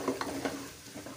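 Onions being stirred into a pan of chicken changezi masala, with a few soft scraping strokes of the spoon through the thick gravy over a low background sizzle, no talking.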